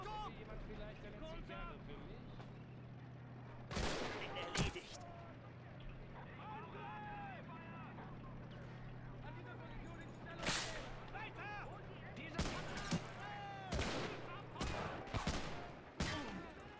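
Heavy gunfire on Omaha Beach in the D-Day video game MoWAS 2, with sharp, loud cracking shots coming in irregular bursts over constant battle rumble while voices shout throughout.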